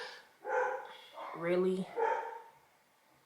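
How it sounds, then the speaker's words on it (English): A dog barks a few times close by, a short bright yap, with a person speaking briefly just before and after. "excuse my dogs, y'all"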